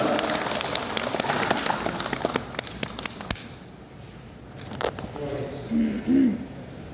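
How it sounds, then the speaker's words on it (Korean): A congregation at a Thursday Holy Spirit church meeting breaks into big, dense applause that crackles steadily for a few seconds, then fades to near quiet with only faint scattered sounds and a soft voice. "우리 모습에 큰 박수로 맞이하겠습니다."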